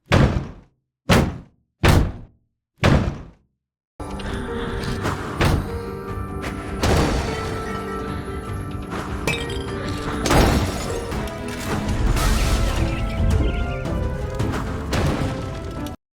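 Ghost-thrown objects striking in the MouseHaunt video game: four separate sharp impacts with glassy, knocking crashes, then a dense continuous stretch of clattering, thudding and shattering hits.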